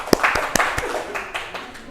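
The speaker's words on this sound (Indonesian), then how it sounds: "tepuk tangan untuk kelompok 1 yuk" A handful of scattered hand claps ring out in a classroom as a student group finishes its presentation. The claps are brief, uneven and fairly close, with no steady rhythm.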